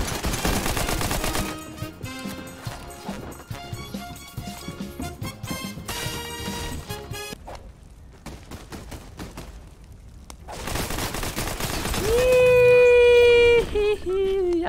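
Shotgun blasts in the Fortnite video game ring out as sharp, loud bursts in quick clusters, mixed with other game noise, and a high tonal effect rises near the end.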